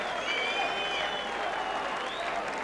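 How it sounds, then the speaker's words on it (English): Crowd applause at the 1992 BDO World Darts Championship final fills the hall, a steady, even wash of clapping that holds at one level throughout. "Yes, applause for Taylor"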